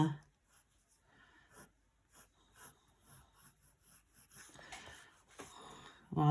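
A pencil point draws across paper for a nose sketch, a faint intermittent scratching and rubbing made of short strokes, ending with louder rustling.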